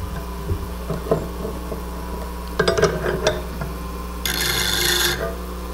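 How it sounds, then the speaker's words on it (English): A tool's bevel is touched to a spinning grinding wheel over a steady low motor hum, with a few scattered clicks and taps, then a short hissing burst of contact near the end. "We're just going to touch the tool to the wheel, and I can see I'm grinding only on the heel"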